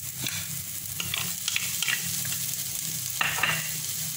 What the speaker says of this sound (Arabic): غادي نشحرو هادشي مزيان